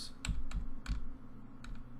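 Keys clack on a computer keyboard, four or five separate taps at an uneven pace, near and moderately loud over a low background hum, with no talking.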